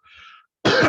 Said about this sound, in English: I got a little bit of cough